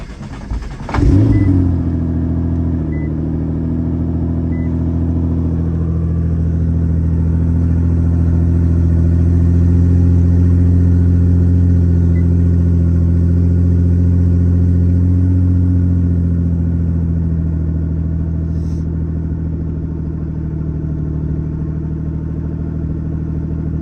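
Nissan GT-R R35, a crash-damaged car, cranks and fires up with a sharp burst, then settles into a steady, loud low rumbling idle that continues close by without talk.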